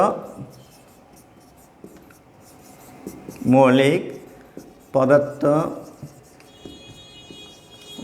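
A pen scratches out handwriting during a seventh-grade general science lesson, soft rubbing strokes running beneath a teacher's voice.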